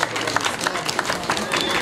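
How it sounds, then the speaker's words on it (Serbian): An audience at a livestock fair award ceremony claps steadily, with a soft, even patter of many hands. A presenter's voice can be heard over it. "Molim za jedan aplauz"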